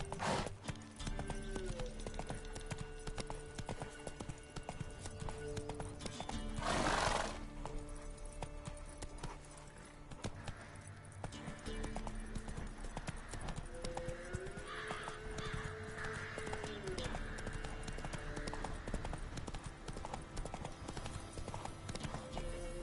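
Hooves clip-clop steadily as a horse gallops in a PS4 video game, with a loud neigh midway, game music and sound effects running underneath throughout.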